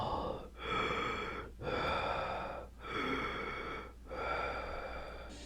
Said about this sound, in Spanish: empezó a escuchar como una respiración, como si alguien le estaba respirando o jadeando atrás de su oído